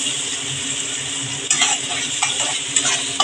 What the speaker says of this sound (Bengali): আমি একটু পেঁয়াজটা ভেজে নেব